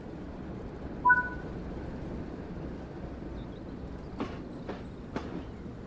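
A locomotive rolls along rails on the West Somerset Railway in the game Train Sim World 3, a quiet steady rumble with a brief tone near the start and a few faint clicks later, with no speech.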